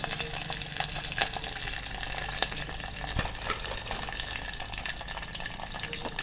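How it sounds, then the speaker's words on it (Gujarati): Mustard seeds, curry leaves and dry red chillies crackle in hot oil for a tempering, a close, steady sizzle with a few sharp pops and light stirring. "હવે આ મરચાં સૂકા છે એ નાખી દઈશું."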